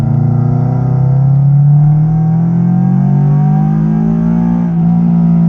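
A Scion FR-S with a catless Tanabe front pipe and SpecD N1-style exhaust drones loudly up close, its pitch rising and falling gently as the engine works through the revs.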